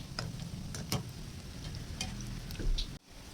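Boiled potato and spinach pakoras fry steadily in hot oil with a continuous close sizzle, while sharp clicks and taps from a utensil flipping them sound through it.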